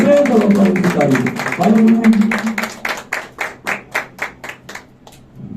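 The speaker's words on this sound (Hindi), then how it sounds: "आपके भरपूर तालियों" Audience at a Christian gathering clapping for a speaker: someone talks at first with clapping underneath, then the crowd's claps come through alone in a clear, steady rhythm before fading out.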